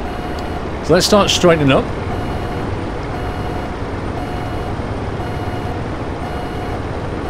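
Reversing beeps from a truck backing a trailer into a parking bay, a steady evenly spaced alarm tone over a continuous engine rumble, with someone briefly speaking nearby near the start.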